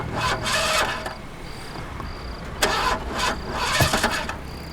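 A car that has broken down on the road at night tries to start. There are three or four grinding cranking attempts separated by pauses, and a repeating electronic warning chime sounds between them.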